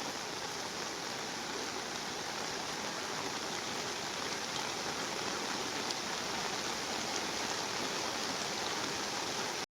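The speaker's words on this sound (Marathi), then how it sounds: "आता एवढा पाण्याचा प्रवाह आहे आणि हा मी क्रॉस करणार आहे" Strong floodwater flows near rice fields in heavy rain, a dense, steady rushing roar that stays even and fairly close throughout, with no voices.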